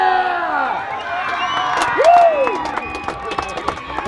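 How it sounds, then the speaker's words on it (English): Home crowd at a football match cheering a good kick, a broad sustained roar of voices with whoops and shouts that swells midway and carries on throughout. "And the home crowd is loving that."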